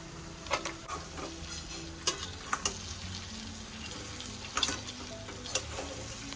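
Giant crabs drop into hot oil with garlic and red chilli powder, setting off a steady close sizzle and frying crackle, with a few sharp clicks of a spoon or ladle stirring against the pan.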